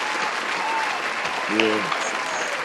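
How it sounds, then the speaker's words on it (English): Applause for actor Antrone Harris on a show, a dense, even clapping that runs throughout while a voice briefly speaks over it partway through. "Man, round of applause. Actor, Antrone Harris."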